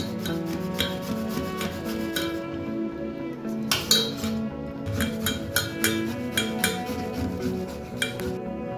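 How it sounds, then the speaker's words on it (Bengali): A tomato rubbed against a metal kitchen grater, steady rasping strokes in a quiet kitchen with a few clinks of metal, heard up close and alone. "এবার একটা গ্রেটার নিয়ে নিয়েছি, টমেটোটাকে গ্রেট করে নেব"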